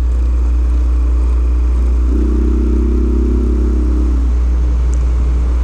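Motorcycle ridden on a dirt trail, a loud continuous engine drone with deep low rumble and a swelling mid-range tone in the middle, no voices.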